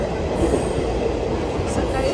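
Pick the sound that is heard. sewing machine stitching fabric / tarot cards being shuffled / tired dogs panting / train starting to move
train starting to move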